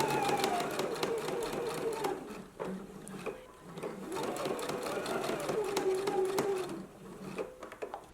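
Sewing machine running the shoulder seams of a dress bodice, a close rhythmic stitching whir in bursts with a brief pause midway, with soft handling noises.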